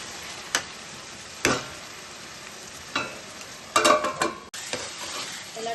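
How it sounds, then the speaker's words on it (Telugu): Tomato pieces cooking with onions in a pan for chicken curry: a low steady sizzle broken by a few sharp stirring scrapes and clinks, close by and with no talking. "మనం కట్ చేసి పెట్టుకున్న టమాటా ముక్కలు వేసుకుందాం ఇవి కూడా రెండు నిమిషాలు మగ్గనివ్వాలి"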